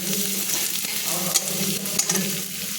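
Small onion and garlic frying in a pan, a steady close sizzle with scraping stir strokes and a couple of sharper clinks from the utensil.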